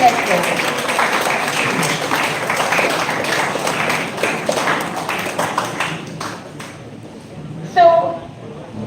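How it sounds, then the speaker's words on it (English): A crowd applauds steadily with dense clapping for several seconds at an engineering college electronics carnival, fading out before a voice cuts in briefly at the end. "big round of applause to sir"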